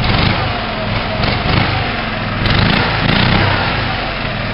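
A nearby tractor engine with its throttle cable not connected runs and revs in uneven surges, its rumble swelling and easing over a few seconds, loud and alone.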